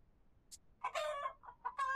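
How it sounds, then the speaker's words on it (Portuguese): Chicken clucking in the Wild West game Cowboy Life Simulator: a short faint note, then a loud run of clucks and squawks coming in bursts, close by. "tem uma galinha ali, mano. Dá uma galinha aqui."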